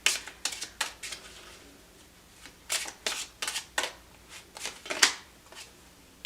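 Cards slide and snap off a tarot deck in a string of crisp, papery shuffling bursts, with brief quiet gaps between the flurries and one sharper flick near the end, close and clear with no voices.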